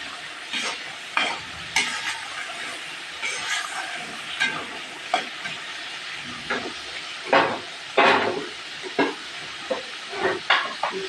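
Green chillies frying in hot oil for dal kulfa, a loud close crackle and hiss with repeated bursts of spattering and stirring scrapes, steady throughout with no voices.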